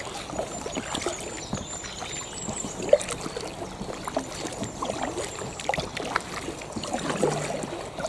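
Kayak paddled along the Cromford Canal, quiet irregular water swishes and drips from the paddle strokes, close and soft against an outdoor background.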